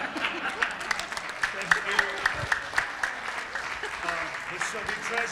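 Applause from a room of attendees at a Rotary club holiday meeting with an ugly sweater award, a dense patter of many hands clapping at moderate level, with voices mixed in beneath.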